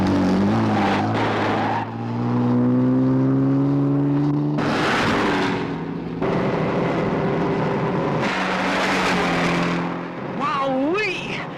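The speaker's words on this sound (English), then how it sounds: "I'm just gonna have to use the supercharger" A cartoon car accelerates hard with its supercharger engaged, a loud engine whine rising in pitch and holding long tones, with bursts of squealing and roaring throughout and a voice shouting over it.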